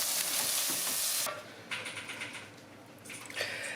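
Cream poured into a hot pan of crispy bacon, onion and garlic, a loud steady sizzle that drops sharply as the liquid goes in, then bubbling and stirring scrapes, close.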